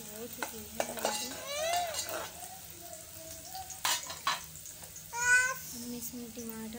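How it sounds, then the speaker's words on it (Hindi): Onions browning in a pan, a soft steady sizzle with stirring while someone talks over it. "ये देखिए प्याज ब्राउन कर रही हूँ मैं"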